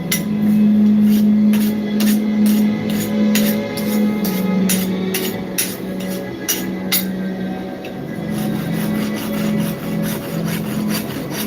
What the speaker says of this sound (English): File only cuts one way, but you gotta draw it back, so you might as well drag it back.